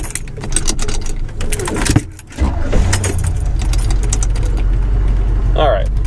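A 1977 Chevrolet Silverado truck engine cranks and then catches, settling into a loud, steady idle close by after a brief jangle of keys.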